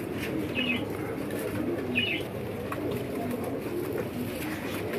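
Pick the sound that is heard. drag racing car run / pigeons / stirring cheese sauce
pigeons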